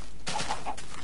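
A quick burst of video game chicken clucking, three short squawky notes close up, over a steady background hum.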